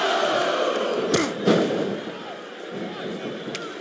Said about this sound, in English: Listen to the crowd, JR.